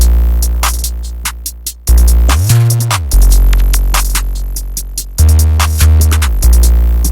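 Full trap drum pattern for a synthy beat: booming 808 bass hits with claps, snares and fast hi-hat ticks, looping loud and steady with a brief dropout and a pitch-sliding 808 fill midway, no talking.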